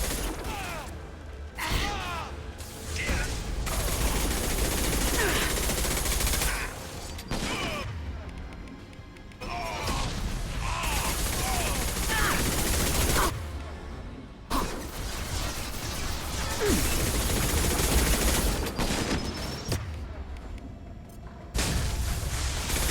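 Heavy bursts of gunfire and crashing impacts from a shooter video game fighting a heavy mech, loud and repeated in long volleys separated by brief pauses.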